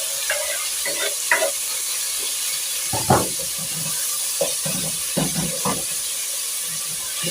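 Tomatoes hit a pan of frying onions, giving a steady bright sizzle and hiss with scattered scraping stir strokes and clinks throughout, close and continuous with no talking.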